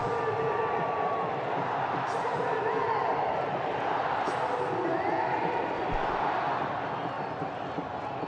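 Huge stadium crowd roaring and cheering without pause after India's Champions Trophy 2025 cricket final win, a dense, loud, continuous wash of voices with scattered whistles and whoops.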